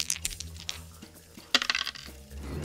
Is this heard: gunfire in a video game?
no